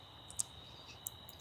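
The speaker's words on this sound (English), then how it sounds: "you wake up and you just hear crickets" Faint, steady cricket trill from a nighttime nature setting in the game Red Dead Redemption, forming a thin continuous chorus with a couple of brief higher chirps and no talking.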